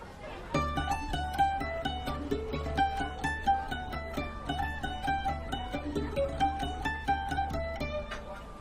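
A lively, fast-paced Puerto Rican folk melody played on a cuatro, a plucked string instrument, bright repeated notes dancing over a steady low accompaniment.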